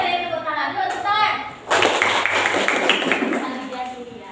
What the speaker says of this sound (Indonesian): tepuk tangan aja kalian, tepuk tangan dulu, tepuk tangan